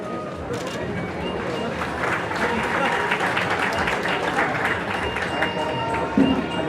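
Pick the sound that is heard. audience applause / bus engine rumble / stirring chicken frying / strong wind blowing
audience applause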